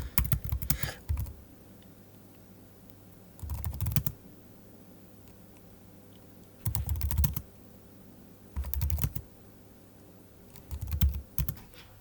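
Computer keyboard typing comes in five short bursts of rapid clicks, separated by pauses of a second or two, close and fairly quiet over a low steady hum.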